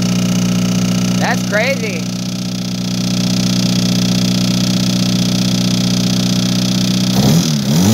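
A 20v car engine with a spun bearing, broken motor mount and damaged exhaust runs loudly and steadily close by, with a brief rev near the end; a voice speaks briefly over the droning engine.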